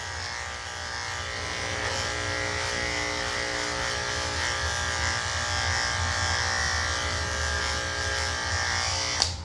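Andis clippers fitted with a 13 mm comb hum steadily while trimming the top coat of a Coton de Tulear, a close, continuous electric buzz that ends in a brief click.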